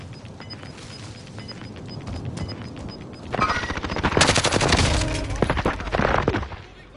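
Automatic gunfire rattles in loud rapid bursts during a Call of Duty multiplayer match, building after a quieter stretch and then cutting off sharply at the end.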